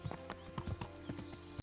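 Horse hoofbeats while riding in the video game Kingdom Come: Deliverance, a quick uneven clip-clop of several hooves, soft and fairly close, with a faint tonal backdrop underneath.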